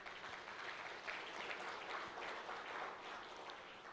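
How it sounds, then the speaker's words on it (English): Audience applause fills the room at the opening ceremony of a US–Ghana business forum, a steady, dense wash of clapping that holds evenly for several seconds with no voices over it. "Please put our hands together for him."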